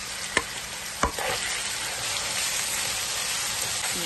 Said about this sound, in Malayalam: ഇനിയും ഇതിലേക്ക് എടുത്തു വെച്ചിരിക്കുന്ന പച്ചമുളക്, ഇഞ്ചി വെളുത്തുള്ളി പേസ്റ്റ്, ഉള്ളി എല്ലാം കൂടെ ഇട്ട് ഒന്ന് വഴറ്റി